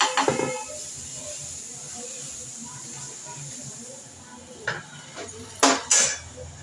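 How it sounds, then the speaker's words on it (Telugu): Dosas cooking on a hot pan, with a soft steady sizzle and a few sharp clinks and scrapes of a metal utensil against the pan. "చూడండి ఫ్రెండ్స్, వేడివేడిగా దోశలు వేస్తున్నారు ఫ్రెండ్స్."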